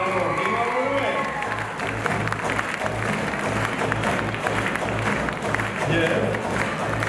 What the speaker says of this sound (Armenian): Շեն ծափերով դիմավորում են։